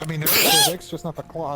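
A single sharp sneeze bursts out, followed at once by someone talking in a normal voice.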